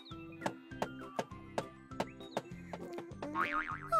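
Six evenly spaced low thuds, like robots knocking on a door in a cartoon, repeat over a bright cartoonish musical backdrop, ending with a wavering whistle-like tone.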